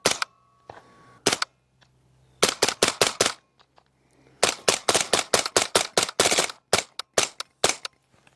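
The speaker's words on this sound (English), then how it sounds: "a little bump fire action in there." Rapid bump-fire bursts from a Foxtrot Mike-9 AR-style 9mm rifle crack out in uneven clusters, sharp and loud up close, with brief single shots and short pauses between the strings.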